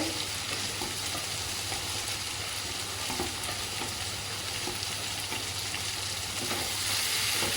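Onions and pumpkin fry in a pan with a steady, close sizzle and crackle that runs unbroken for the whole stretch, with faint stirring and no voices.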